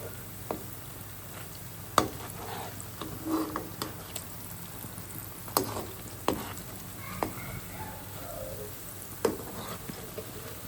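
Piyaju lentil-onion fritters fry in hot oil with a steady close sizzle, punctuated by several sharp clicks and taps as the pieces are turned over in the pan.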